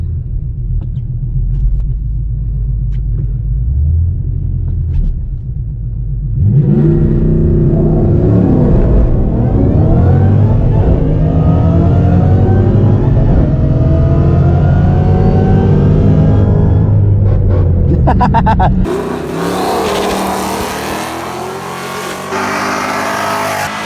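A Coyote-powered drag car and a twin-turbo GT500 Mustang at a drag strip: a loud idling rumble, then a roaring launch and sustained high-revving run lasting several seconds before a sudden cut to a distant, lighter engine tone.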